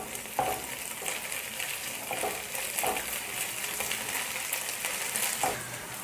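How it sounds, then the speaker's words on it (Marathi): Ginger garlic paste sizzles steadily in a hot pan, a continuous broadband frying hiss broken by a few soft scraping stirs at irregular intervals, close and alone with no talk. "त्याला पण 1 मिनटं आपल्याला फ्राय करून घेऊ"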